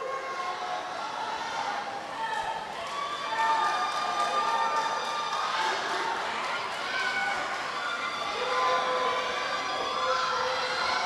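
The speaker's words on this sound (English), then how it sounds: "The amount of noise in here is absolutely crazy. It's so loud. Everybody cheering." A packed indoor pool at a vocational swimming meet fills with loud, sustained cheering and shouting. The roar swells partway through, with many voices, some whistles and shrill calls mixed in.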